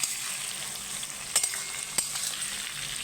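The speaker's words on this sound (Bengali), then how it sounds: "এবার আমি একটু নেড়ে দেবো" Masala okra (bhindi) fries in a pan with a soft, steady sizzle, broken by a couple of sharp spoon scrapes as it is stirred.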